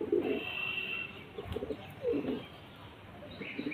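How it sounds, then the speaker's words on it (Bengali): Pet pigeons coo close by in soft, low throaty bursts that come two or three times, with a few faint chirps between them and no talk. "দেখুন, শুধু পায়রাগুলো দেখুন"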